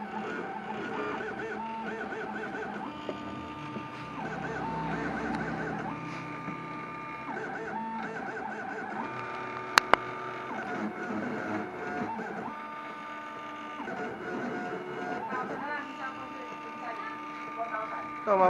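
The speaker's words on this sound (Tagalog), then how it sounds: "kailangan mo ng machine ng cutter plate na ganito para makapaggawa ka na syempre na temporary plate" A cutter plate machine printing a temporary vehicle plate, running as a steady mechanical whir with repeating tonal passes and a brief sharp click partway through, close and continuous.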